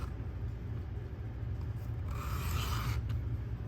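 A knife blade is drawn across a sharpening stone in steady back-and-forth strokes while evening out the bevel, giving a continuous close rasping rub that grows brighter and louder toward the end.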